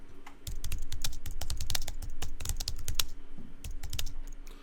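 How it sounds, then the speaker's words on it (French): Rapid, steady typing on a computer keyboard, close and crisp, with dense clicking keystrokes running continuously for several seconds without talk. "et je tape le texte."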